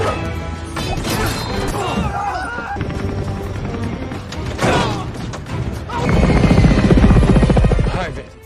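Loud helicopter rotor chop runs throughout, mixed with crashes, thuds and hurried action sounds, growing heavier toward the end.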